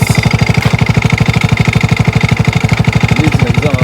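The small engine of a YS200 yard cart runs loud and close with no exhaust fitted, giving a fast, even, raw popping throb that stays steady throughout, with no talking.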